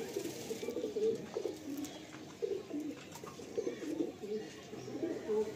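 Pigeons kept as pairs for sale coo in low, soft, repeated bubbling phrases, fairly close and steady throughout with a faint background hiss.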